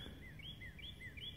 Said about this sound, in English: You hear the birds chirp and tweet